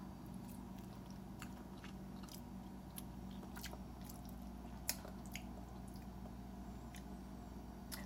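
Someone chewing a bite of Mexican-style ramen with salsa, giving quiet, close, wet squishing and biting sounds in a steady run, with a few soft clicks and one small sharp tick, alone with no talk.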